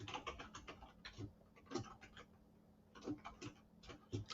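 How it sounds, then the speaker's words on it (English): Typing on a computer keyboard, quick bursts of soft clicky keystrokes in uneven runs with short pauses, close and fairly quiet. "sorry, I'm typing, guys."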